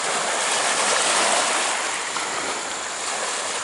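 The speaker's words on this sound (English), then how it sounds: "and then the waves come in afterwards." Waves from a big passing barge's wake washing ashore at a fishing spot, a steady close rushing surf sound alone with no talk.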